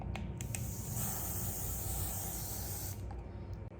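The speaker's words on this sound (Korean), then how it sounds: "마지막은 이제 유지력을 위해서 스프레이를 뿌려줄 거예요." Hair spray is misted onto a man's styled hair along the parting, one long continuous hiss lasting about three seconds, close and steady, then cutting off.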